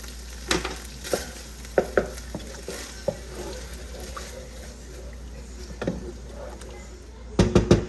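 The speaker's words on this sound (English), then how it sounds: "Now I'm going to add some of this minced garlic, lemon, basil." Minced garlic, lemon and basil go into a hot pan for a Caribbean coconut seafood guisado, with steady sizzling under repeated close utensil taps and stirring scrapes that grow busier at the end.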